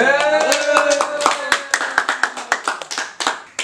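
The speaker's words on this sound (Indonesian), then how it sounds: "Mari kita tetap beri tepuk tangan dulu" Applause at a village head candidates' debate in Indonesia, a few people clapping loudly and close, starting as a dense burst and thinning into separate slaps, with a voice sounding at the start.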